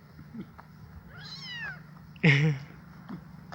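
A cat meows close by, first a drawn-out wavering call and then a louder, sharper meow, with a short quiet gap between them.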